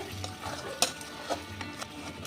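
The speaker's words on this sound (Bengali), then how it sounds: "মশলা খুব ভালো করে কষা হয়ে গেছে, দেখুন তেল ছেড়ে দিয়েছে।" Spice paste for a chicken-in-milk curry stirred and fried in oil in a pan over low to medium heat: soft sizzling under repeated scraping strokes of a spoon, faint and close.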